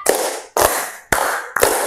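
A classroom of students claps together four times in a steady rhythm during an ice-breaker game, each loud, sharp burst of many hands landing in unison and ringing briefly in the room.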